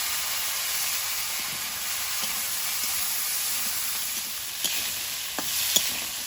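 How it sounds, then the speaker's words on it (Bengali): Mixed vegetables hit hot oil for a fish curry with broad beans and are stirred, giving a continuous sizzling hiss with a few scraping clicks and spatters toward the end. "সবজিটা দিয়ে দেবো,"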